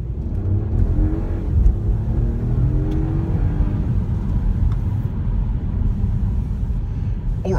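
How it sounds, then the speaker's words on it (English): A BMW 225xe plug-in hybrid pulls away hard from a standstill, giving a steady, dense whirring rumble that holds loud and even from inside the car, with no voices. "Let's see how quickly it goes off the mark."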